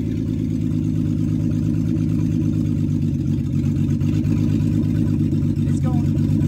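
A Lexus SC300 engine runs with a steady, deep, pulsing drone as the car creeps forward under its own power, loud and close throughout; a voice talks over it briefly.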